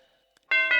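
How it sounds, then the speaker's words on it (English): A MIDI xylophone voice plays two bright, quick struck notes with a short ring, close and alone after a near-silent start. "Xylophone,"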